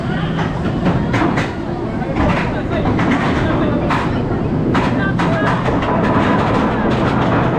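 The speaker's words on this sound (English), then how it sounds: "This lift hill is insane" The Iron Gwazi roller coaster at Busch Gardens climbs its lift hill with a loud, steady mechanical rumble and rattle, while riders talk and shout over it.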